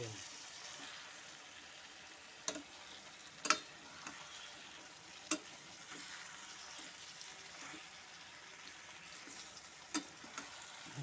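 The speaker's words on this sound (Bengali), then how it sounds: "এটাকে আগে নেড়ে নিই।" Chicken with soy sauce frying in a pan while being stirred, a soft steady sizzle under quiet background noise with a few sharp clicks of the utensil against the pan.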